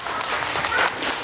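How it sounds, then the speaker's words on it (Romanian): Brief round of applause in a school classroom, a dense patter of clapping hands lasting just over a second at a fairly loud, even level. "Aplauze!"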